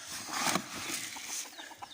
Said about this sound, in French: ça me reste plus que 5 poules et un coq